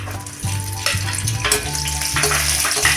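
Garlic and dried chilies sizzle steadily in hot oil, a loud, continuous frying hiss with occasional stirring scrapes over a low background hum.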